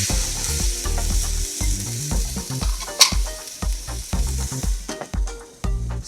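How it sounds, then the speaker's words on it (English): Vegetables with sweet pepper sauté in a pan before butternut squash soup, a steady close sizzle punctuated by frequent spoon scrapes and stirring clatter, with one sharper knock midway. "So we're going to let those saute for a little while."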